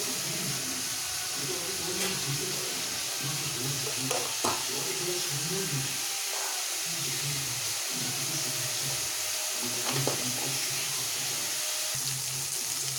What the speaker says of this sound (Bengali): জাস্ট লাইট ফ্রাই করব, ডিপ ফ্রাই কিন্তু করবো না